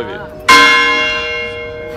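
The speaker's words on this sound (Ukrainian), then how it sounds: "Дзвони у Львові." A church bell in Lviv rings out with one loud, sudden strike, its bright metallic tone ringing on and slowly decaying, while a fainter earlier bell tone fades beneath it.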